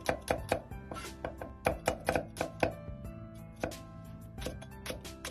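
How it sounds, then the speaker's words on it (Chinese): A kitchen knife slices garlic cloves on a cutting board in a cooking setting, giving quick, crisp, close-up strikes in uneven bursts of chopping with short pauses between runs. "再切成蒜片。"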